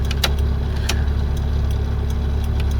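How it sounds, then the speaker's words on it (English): A Mk3 Ford Cortina engine idles with a steady low rumble, close by, with a few faint clicks and ticks over it. "leave the engine running"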